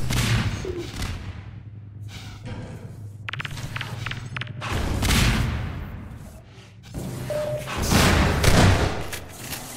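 Grenade explosions in a Half-Life 2 Deathmatch match: several heavy booms and thuds in succession, loud and rumbling, with gunfire and footsteps mixed between the blasts.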